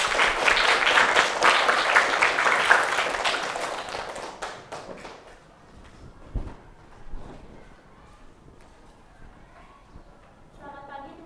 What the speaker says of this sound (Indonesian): Ya, tepuk tangan dulu untuk teman.